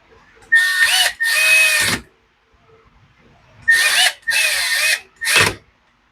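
Echo SRM 2400 string trimmer after a no-power repair, several loud close bursts of a revving two-stroke engine with high whine, separated by short silent gaps.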